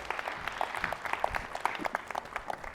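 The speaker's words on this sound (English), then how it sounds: "Everyone, round of applause for Matt for being so brave." Fairly faint applause from an audience at a London coaching congress as a volunteer walks on stage, with distinct individual claps standing out over a soft crowd wash.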